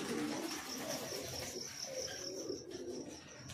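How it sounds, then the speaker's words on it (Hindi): Pigeons cooing and calling at a rooftop loft on a December morning, a steady outdoor bird chorus with faint insect-like chirring, continuous and moderately quiet with no talk. "एक कबूतर बैठा हुआ है भाई,"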